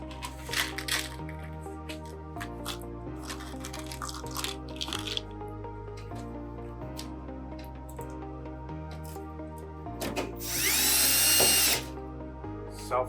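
A power drill drives self-tapping coated screws through gutter guards under a roof edge, with short whirring bursts and one loud, longer grinding run near the end, heard alone without talk.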